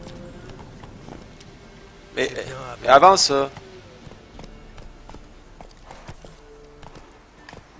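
Hooves of a horse in the video game Witcher 3 patter faintly in the background while someone speaks briefly and loudly over a short burst of game noise in the middle.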